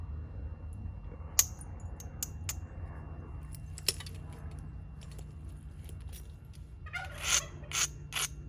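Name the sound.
turkeys gobbling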